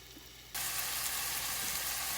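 Meat for chili hits a hot pan and breaks into a loud, steady sizzle of frying after a half-second of quiet, continuing without pause.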